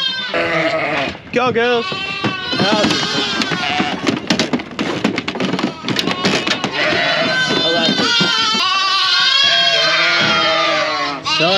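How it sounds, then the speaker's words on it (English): Ewes and lambs being let out to grass after being kept indoors bleat loudly and continuously at close range, many overlapping calls, while a person briefly urges them on. "Four ewes and lambs going out that have been kept in for a while."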